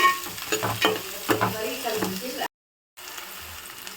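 Three large onions frying in a pan for a Telugu fish pulusu, sizzling steadily with repeated scraping stir strokes close up, then cut off by a brief gap before quieter sizzling resumes.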